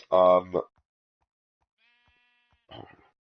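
Minecraft mule being tamed in the video game: a loud, braying call at the start, a brief faint chime, then a shorter, rougher call near the end, with silence between.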